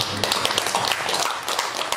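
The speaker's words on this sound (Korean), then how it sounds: "박수" Dense audience applause from many hands at a Buddhist dharma assembly at a temple, steady and loud throughout with no speech over it.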